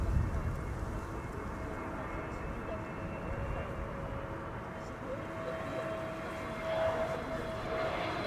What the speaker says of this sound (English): EasyJet landing here.